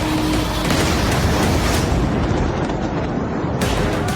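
An explosion from a Shahed 136 drone strike in the US–Iran war, heard as a sustained, heavy, rumbling blast with deep booming low end that stays loud throughout.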